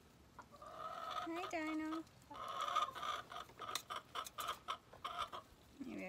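A rooster in a backyard chicken flock gives close, loud squawks and clucks, a drawn-out call followed by a run of rapid rhythmic clucking, with a person briefly speaking a greeting.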